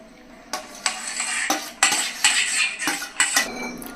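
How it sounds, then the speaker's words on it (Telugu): Dry roasted spices, cooled, drop and clatter into a mixer jar in several quick bursts, with metallic clinks of a spoon against the container. "ఒక మిక్సీ జార్ తీసుకుని అందులో వేసేస్తున్నానండి"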